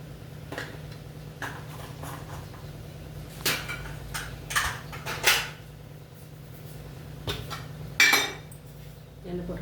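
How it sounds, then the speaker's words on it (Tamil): Sharp metallic clinks and scrapes of a pan and utensils come while oil is heated to temper spices for sambar. The knocks are scattered and irregular over a low steady hum, and no one speaks. "இப்போது சாம்பார் தாளிக்கிறது."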